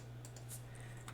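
A few soft keystrokes on a computer keyboard while writing a Tableau expression, sparse taps over a steady low electrical hum, quiet and close.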